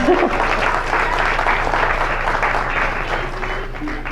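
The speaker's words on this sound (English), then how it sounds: "let's give ourselves a round of applause" A room full of people at a local history gathering applauds together, a steady wash of clapping from a medium-sized audience that holds evenly throughout.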